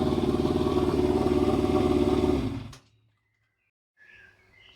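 Yamaha Fazer 600 motorcycle engine running loud and steady for over two seconds, then cutting off abruptly into silence, followed by faint quiet sounds near the end.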